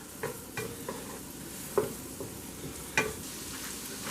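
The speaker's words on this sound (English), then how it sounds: "You just want to get that mixed in and sauteed really well." Vegetables sauté in butter for a cauliflower parmesan soup, a quiet steady sizzle punctuated by a few sharp scrapes and taps of a spoon against the pot.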